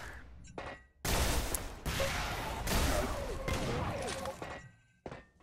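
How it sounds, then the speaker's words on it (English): Shotgun blasts and chaotic weapon fire from a fast arena duel in the first-person shooter Xonotic, loud bursts separated by brief gaps, with one sharp shot near the end. "Beautiful shotgun use there."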